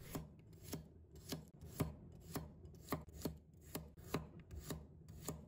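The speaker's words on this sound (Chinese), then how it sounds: "接下来我们再准备1把大蒜，把它切成薄片" A knife slices a bunch of garlic into thin slices on a cutting board, giving quick, evenly spaced chopping taps, around a dozen crisp close strikes, quiet overall and with no voices.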